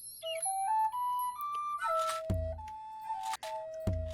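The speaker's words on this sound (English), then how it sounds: "So start with the wind chime and then a whistle." Minecraft Totemic mod sounds: a wind chime plays a rising run of clear tones, then a whistle gives steady held notes, with two dull thumps between them, loud and close with no talking.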